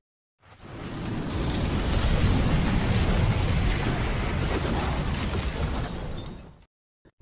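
A large bomb explosion tears through a house: one loud, sustained roaring blast with deep rumble and debris noise, lasting about six seconds before cutting off, with no voices.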